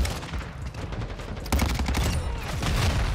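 A Cronen Squall battle rifle fires in Modern Warfare 2 on the small Shipment map, loud, close bursts of rapid shots that run almost without pause, with a sharp jump in intensity midway.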